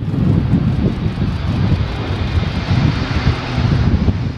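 Jet engines of a KC-135R aerial refuelling tanker at a maintenance facility in Kayseri, a steady deep roar with a continuous rumbling low end, loud and close, with no voices.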